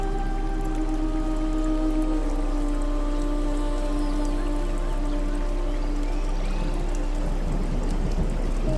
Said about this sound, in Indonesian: menyambut setiap tetes hujan yang turun